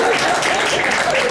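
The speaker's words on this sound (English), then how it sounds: "let's do a proper clap" Brief burst of dense audience clapping in a university lecture hall at an African cultural organization event, loud and continuous, with faint voices mixed in.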